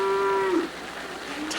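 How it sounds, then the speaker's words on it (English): A cow bawls in one long, loud low moo that bends and fades, standing alone with no talking. "Cows bawled."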